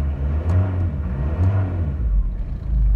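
1998 Vauxhall Frontera 2.5 TDS long-wheelbase diesel running just after a cold start, a close, steady low rumbling idle with a rhythmic pulsing throb and slight rises in engine speed.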